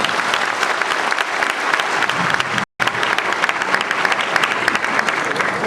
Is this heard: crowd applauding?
yes